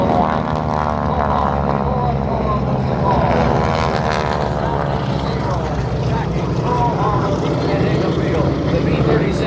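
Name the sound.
propeller warplane flying overhead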